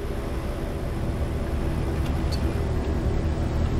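A Paccar MX-11 diesel engine in a Kenworth W900 truck in American Truck Simulator cruises in top gear at about 55 mph and 900 RPM. A steady low rumbling drone carries throughout, with a brief faint hiss partway through.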